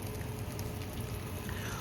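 A steak sears in hot avocado oil in a pan, making a loud, dense, continuous sizzle heard close up without pause.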